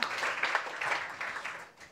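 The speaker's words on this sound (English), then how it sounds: "If you could give him a round of applause." An audience at a conference on the digital-first global economy applauds a departing minister, a steady wash of clapping from many hands that stays fairly even and fades slightly near the end.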